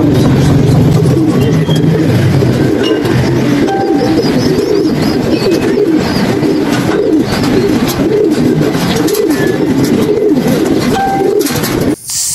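Racing pigeons cooing as they arrive back at their loft, a steady murmur of soft coos from several birds over continuous background noise, with faint engine rumble nearby.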